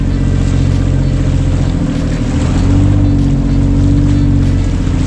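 A motorboat engine drones loudly and steadily at close range, a deep constant hum with water rushing beneath it and no voices.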